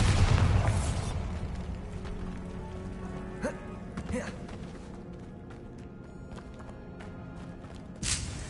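A Bombarda blasting spell in Hogwarts Legacy goes off with a loud boom at the start, followed by softer crackling impacts and scattered pops while a voice talks.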